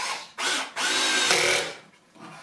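A cordless drill whirs in three short, close bursts while assembling an Ashford Kiwi 3 folding spinning wheel, the motor revving up and easing off with brief pauses between.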